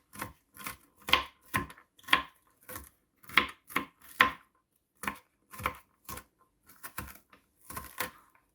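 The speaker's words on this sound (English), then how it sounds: "So I'm just chopping by hand." A knife chops vegetables, including celery, by hand on a cutting board in a steady series of sharp taps, close and fairly quiet, with no talking.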